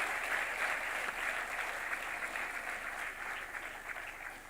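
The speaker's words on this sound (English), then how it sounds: "Could I have a big round of applause for all your parents who are watching this program online" Audience applause at a university convocation ceremony: a steady, dense patter of many hands clapping, moderately distant and fairly quiet, sustained for several seconds and fading slightly at the end.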